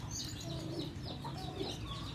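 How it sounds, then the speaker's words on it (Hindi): A Thai-breed rooster, newly brought to a farm alongside aseel birds, gives soft low clucks and short calls against steady outdoor background noise, faint rather than close. "ये थाईलैंडी है, ये थाईलैंडी मुर्गा है"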